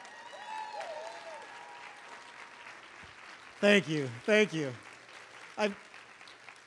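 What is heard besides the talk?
audience standing and clapping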